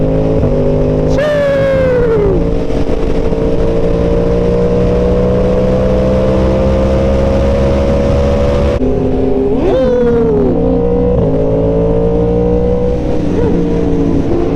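Sport motorcycle with an aftermarket exhaust, revving loudly and close: a steady, throbbing engine note rises sharply around the first second, holds, then surges again near the tenth second. Nobody speaks.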